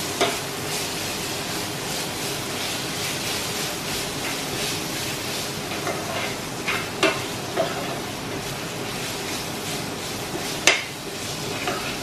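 Ginger garlic paste frying in a pan for vegetable biryani, a steady crackling sizzle with occasional stirring scrapes and a few louder clinks of a spoon against the pan.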